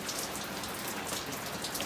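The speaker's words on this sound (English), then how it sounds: "The rain is upon us." Steady rain falls outside on a wet day, a dense, even hiss of drops pattering on surfaces throughout, with no voices or other sounds breaking through.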